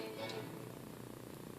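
Cat purring close by, a soft steady rhythmic rumble repeating evenly throughout, faint and low in a quiet room.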